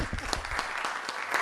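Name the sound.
audience applause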